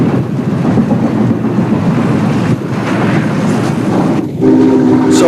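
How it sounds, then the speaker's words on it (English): A Norfolk and Western Class J 4-8-4 steam locomotive rolls through an N&W coal yard, loud and close, with a continuous rumble and clatter of cars and a brief horn or whistle tone near the end. "Returning to Roanoke, the Jay passes through an N&W coal yard."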